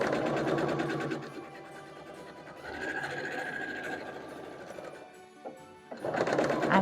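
A sewing machine stitches scrap quilt fabric pieces together for a barn star quilt block, running in steady rapid bursts with a short pause and restart, close and clear with no talking.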